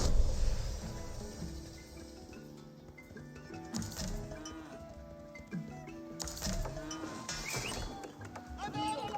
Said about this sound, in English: More cows coming on out.